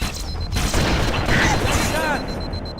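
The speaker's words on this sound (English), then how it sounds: "Marine, that was a big explosion." A big explosion in a sci-fi shooter video game, a loud sustained rumbling blast with crackling debris, filling the clip at close range.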